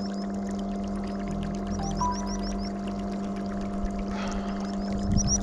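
A small boat motor hums steadily out on the water while fishing, a low constant drone under faint splashes and light knocks, moderately quiet and unbroken, with no voices.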